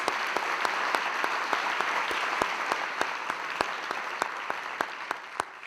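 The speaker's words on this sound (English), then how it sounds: "let's give Secretary General Annan a round of applause" Audience applause at the Hult Prize finals and awards ceremony held at the United Nations, a steady, dense wash of clapping from a large crowd that carries on for the whole stretch, with a few sharper individual claps standing out, and no voices over it.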